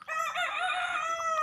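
A brooding mother hen lets out a loud, drawn-out call, close and alone, holding steady for over a second.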